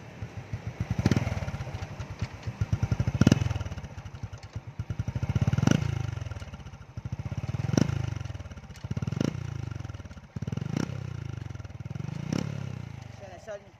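A 2005 Honda Wave ZX motorcycle engine idles nearby, then revs in repeated short bursts every couple of seconds, each swelling and falling back with a rattly pulse.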